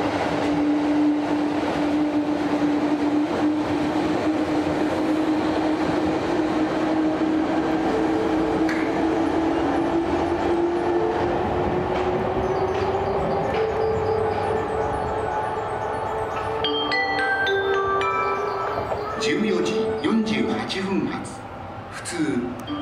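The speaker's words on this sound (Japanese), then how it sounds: "2番乗り場を電車が通過します。" A train rumbles steadily past through Imamiya Station on the JR Yamatoji Line, Osaka, with a rising hum and rolling rail noise, ending in a brief cluster of squeals and clanks.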